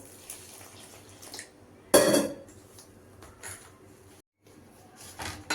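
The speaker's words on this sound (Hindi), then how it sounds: "थोड़ा थोड़ा पानी डालते हुए हम एक टाइट डो लगाएंगे।" Maida flour dough with ghee is kneaded by hand in a bowl while water is added a little at a time. Soft wet handling sounds are broken by a sharp metallic clatter of a vessel partway through, and a brief silence follows.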